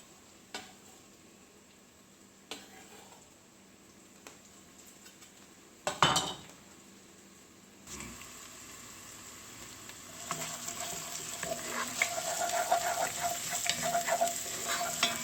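Garlic and ginger hit hot ghee in a pot and are stirred, with metal utensil clanks and scrapes, then a sizzle that swells and grows louder and denser over the final seconds.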